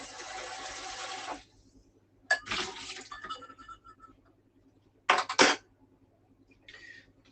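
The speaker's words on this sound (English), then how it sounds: "we're going to empty the water out of the pan" Water is poured out of a cooking pan into a kitchen sink in a short splashing gush, then a few brief clattering splashes and trickles follow with quiet gaps between them.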